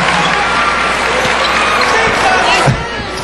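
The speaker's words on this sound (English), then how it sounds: "The crowd reacting." Steady crowd noise fills a basketball arena during a Derby Ace vs San Miguel game, a broad continuous roar with a thud near the end, under which a commentator talks.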